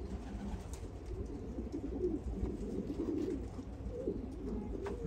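Yellow Hungarian pigeons coo steadily in a low, warbling murmur that carries on without a break, with several birds overlapping at moderate loudness.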